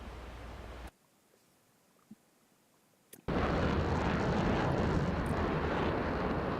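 An AV-8B jet on air patrol near the aircraft carrier John Stennis gives a loud, steady, broadband roar that breaks in suddenly after a quiet stretch with a couple of faint knocks.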